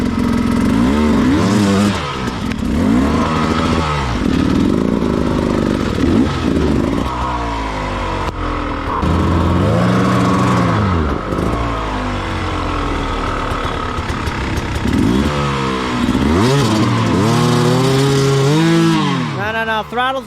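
A hard enduro motorcycle at the 2020 Tough Like RORR race revs loudly and up close, its engine note repeatedly climbing and dropping in strained bursts as the rider struggles, with voices faintly underneath.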